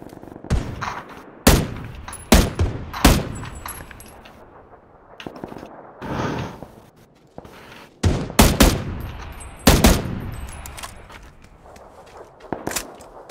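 Gunfire in the battle royale video game PUBG: several loud, sharp shots ring out in irregular bursts across the clip, some in quick doubled pairs, with faint clinks and footsteps between them and no talk.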